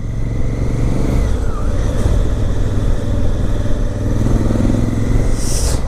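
Engine of a 2017 Honda Africa Twin motorcycle, an off-road style bike, heard while riding on a daily commute: a steady, loud drone with wind rush, held at an even level throughout.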